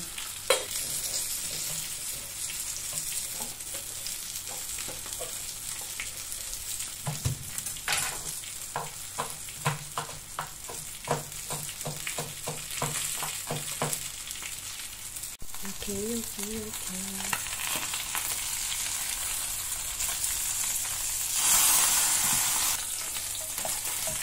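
A pan sizzles steadily while a spoon stirs with rhythmic scraping taps as fried rice is started. A voice speaks briefly partway through.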